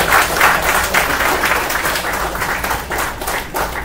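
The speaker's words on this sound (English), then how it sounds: "Once again, a huge round of applause, ladies and gentlemen." Loud, close applause from a large audience at a hackathon award ceremony in Bangalore, dense rhythmic clapping filling the whole stretch.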